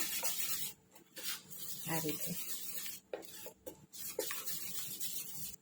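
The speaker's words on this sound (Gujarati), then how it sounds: "હવે એમાં 1 ચમચી જેવો આપણે ઈનો એડ કરીશું અને સરસ એક્ટિવ કરી લઈશું એને મિક્સ કરીને" Spoon stirring Eno into moong dal khaman batter with a little oil, giving soft scraping and clinking bursts against the bowl, close up, with brief speech over it.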